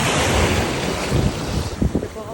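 Atlantic ocean surf washing onto a beach in Canada, a steady broadband roar with wind buffeting the microphone and a few sharper splashes near the end, no talking.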